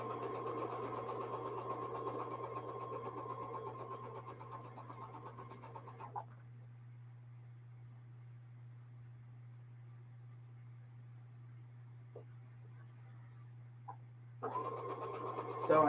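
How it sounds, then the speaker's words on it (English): Sewing machine stitching rows of quilt blocks together with quarter-inch seams, a steady whirring run for about six seconds, then a pause with faint clicks before the motor starts again near the end. "So I'm just sewing my rows together with 1/4 inch seams."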